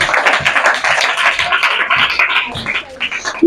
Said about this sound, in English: Clap for Mahnur.